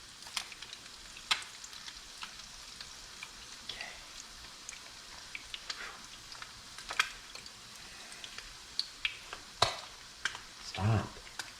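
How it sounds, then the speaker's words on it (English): Blue crab cake patties fry quietly in a pan, a low steady sizzle dotted with scattered crackles and pops. "I'm going to let that cook until it browns on one side"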